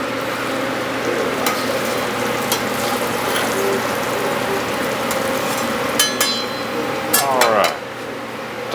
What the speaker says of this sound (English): we're going to be taking the catfish out of the clarified butter